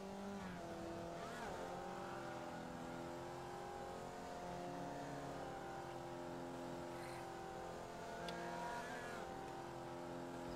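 Formula Vee race cars lap Tsukuba in iRacing with droning, rising and falling engine notes, layered over each other, plus brief tire squeal throughout.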